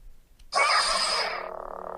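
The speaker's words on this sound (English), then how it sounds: "That sound is just unmistakable. That's Luke's Return of the Jedi Saber" An electronic lightsaber hum in the style of Luke's Return of the Jedi saber snaps on abruptly and sustains steadily, loud and close, then settles slightly quieter with a faint pulsing texture.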